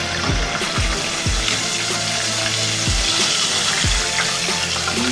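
Chicken fries in a deep fryer, giving a loud, continuous bubbling sizzle with a few low thumping knocks spaced irregularly underneath.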